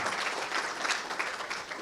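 Audience applause honouring surgical technology graduates at a commencement ceremony, a steady dense clapping wash from a large crowd that holds throughout at moderate level.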